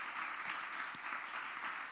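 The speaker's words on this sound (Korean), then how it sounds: "수련회 때 전도회로 수고했던 모든 사람들 위해서 박수로 한번 격려하도록 하겠습니다" A church young-adult congregation claps to encourage the evangelism team, a soft, even wash of applause, somewhat distant and continuous throughout.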